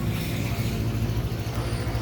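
Continuous road traffic in an Arab village in northern Israel during afternoon rush hour, a steady low engine rumble from passing cars, fairly loud and unbroken throughout.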